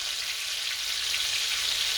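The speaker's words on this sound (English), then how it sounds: "look at my pork Milanese. Look at that. Look at that. Sizzling." Pork Milanese frying in a pan, a steady bright sizzle that stays loud and close without a break.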